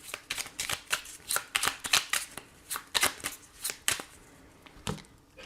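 Oracle cards are shuffled by hand in quick, crisp riffling bursts, a rapid irregular run of close papery flicks and slaps with no talk.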